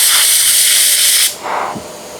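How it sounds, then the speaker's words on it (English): An InoKraft Drizzle D1 low volume, low pressure paint spray gun set to about 24 psi gives a loud, steady hiss of sprayed base coat that cuts off abruptly, followed by a softer hiss of air. "The gun I'm using is the InoKraft Drizzle D1 low volume, low pressure paint gun"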